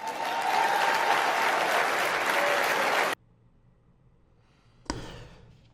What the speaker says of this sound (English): to have that ovation for as long as it went on for her mom was just great to see